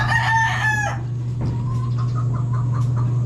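Chickens raised on a small poultry farm crow in a loud harmonic call at the start, followed by scattered clucks against a steady low hum, with no talking.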